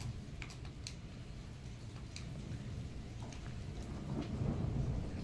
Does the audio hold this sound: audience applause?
no